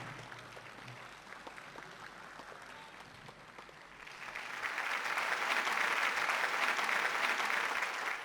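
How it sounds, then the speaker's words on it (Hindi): Clapping from the audience at an Urdu mushaira and Kavi Sammelan in Dubai starts faint and swells midway into fuller, louder applause from the hall, a soft low hum underneath at the start. "ये अलीगढ़ वाले ज़्यादा तालियां बजा रहे हैं"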